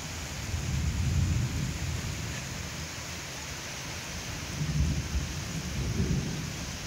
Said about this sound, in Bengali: তো এখন কিন্তু আসলে ব্যাপক আকারে বৃষ্টি পড়ছে।